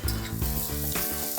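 Onions sizzle and fry in a pan, slightly browned and salted, while cooking for prawn biryani; the hiss is steady, close and loud across the short stretch, with no voices.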